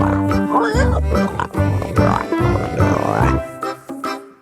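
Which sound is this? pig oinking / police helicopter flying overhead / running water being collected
pig oinking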